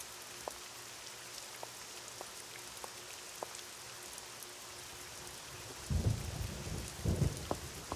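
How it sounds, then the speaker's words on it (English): Rain and thunder in the Nancy Drew: Legend of the Crystal Skull game: steady soft rainfall with scattered drips, then deep rumbling thunder rolls swelling twice near the end. "I love the thunder."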